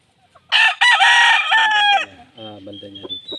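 A Shilton Roundhead rooster with Raptor bloodline crows loudly and close by in one long drawn-out call, followed by softer clucking and murmuring.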